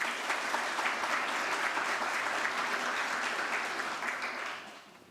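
A church congregation applauds during a novena Mass, with dense, steady clapping from many hands that holds evenly and then fades out near the end.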